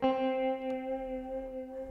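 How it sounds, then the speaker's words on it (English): A sustained sampled guitar-like tone wavers gently in a steady AutoPan tremolo pulse, with a short, soft reverb tail. "the tremolo using AutoPan and a little bit of short reverb gives it a realistic guitar tone"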